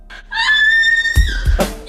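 A person screams in a drama, a sustained high-pitched cry that holds steady and then breaks off into rough, noisy bursts at close range.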